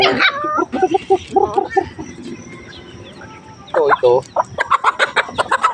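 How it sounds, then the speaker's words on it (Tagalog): Chickens cluck and chatter in bursts nearby, with a dog's barks mixed in toward the end, a busy outdoor yard sound. "marami itong sisiw."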